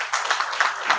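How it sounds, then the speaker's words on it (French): Audience applause at a forum on HIV prevention and early pregnancy, a short burst of moderate, fairly distant clapping with soft rhythmic peaks. "On nous applaudit plus fort"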